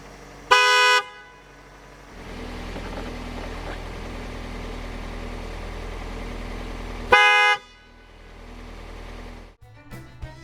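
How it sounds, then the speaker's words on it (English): A pair of FIAMM AM80SX car horns gives two short, loud, bright blasts several seconds apart over a low engine idle, followed by a brief clunk at the end. "Here's how the new horns sound after the adjustment."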